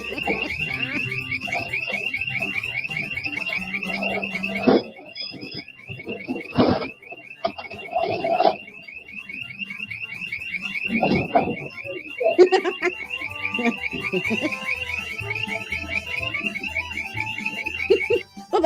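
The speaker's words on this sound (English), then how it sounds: "The alarm's going." A shrill electronic alarm rings continuously at a shop where thieves are being caught, a steady high-pitched tone running throughout with voices and brief bursts of commotion underneath.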